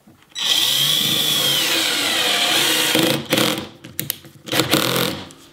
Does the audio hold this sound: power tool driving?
yes